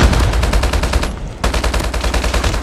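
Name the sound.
gunfire in Call of Duty Mobile, a video game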